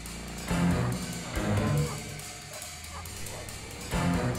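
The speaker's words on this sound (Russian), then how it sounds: "Собака, вылази, давай" A dog in The Godfather game barks in a few separate loud woofs spaced about a second apart, with quieter yips and whimpers between them.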